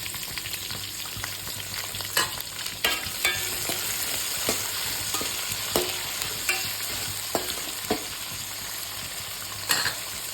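Onions, mint, green chillies and curry leaves fry in a pan for a kulambu, with a constant crackling sizzle broken by irregular scraping stirs from a utensil, close up and unaccompanied by speech.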